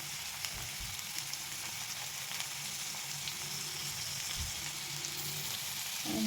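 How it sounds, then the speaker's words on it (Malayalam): Garlic, small onions and curry leaves sizzle steadily in hot oil in a pan. The frying crackles evenly at a faint, close level throughout, with no voices. "ചെറിയ ഉള്ളി, നന്നായിട്ട് മൂപ്പിക്കണം."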